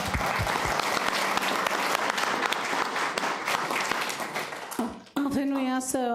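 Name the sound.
audience applause at council meeting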